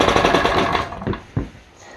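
A small 1300W portable generator engine runs rough and loud right after a pull start, a rapid chattering putter that fades and stumbles over the last second with a couple of sputtering pops.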